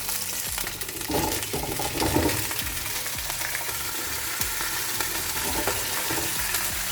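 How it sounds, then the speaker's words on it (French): Meat frying in a pan with potatoes and onion added, a continuous close sizzle broken by clattering stirs and scrapes of the utensil. "Après avoir fait revenir ma viande, je vais rajouter les pommes de terre et l'oignon."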